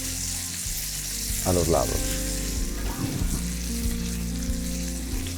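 Meat sizzles steadily in a wide paella pan at a festive mixed paella, with a brief stir or scrape in the middle and someone talking briefly over the frying.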